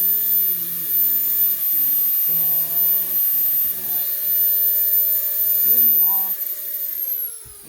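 A Dremel rotary tool whines in short, loud bursts while carving and whittling wood, its pitch rising and falling as it starts and stops, over a steady background hum with no talk.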